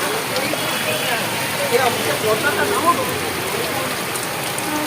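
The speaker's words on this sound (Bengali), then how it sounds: "দেখুন বৃষ্টি পড়ছে, বৃষ্টির মধ্যে ছাতা নিয়ে অনেকে বেরিয়ে পড়েছে।" Outdoor rain falling steadily in Chandannagar, a dense even hiss of drops on surfaces, with a person talking over it and faint traffic-like rumble beneath.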